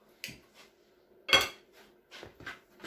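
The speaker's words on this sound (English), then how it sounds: "Then I will now mix my dry ingredients." Dry waffle ingredients get mixed in a bowl: a handful of quiet, scattered utensil clinks and scrapes with near silence between them, one louder knock in the middle.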